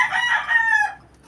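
A single short gamefowl rooster crow, loud and close, trailing off abruptly after about a second.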